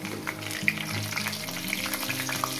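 Potato pieces frying in refined oil in a pan make a steady, close sizzle with bright crackles and pops throughout, with no voices.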